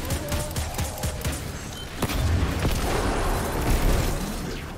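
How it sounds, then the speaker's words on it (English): Gunfire in the Destiny video game, played solo in a Lost Sector: dense, continuous bursts of shots and booming impacts roll on without pause, loud and close throughout. "just shooting"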